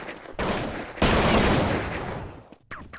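Counter-Strike gunfire on de_nuke during a 2011 DreamHack match between AGAiN and Lions: loud, dense bursts of automatic fire and rapid shots in quick succession, with a brief gap near the end.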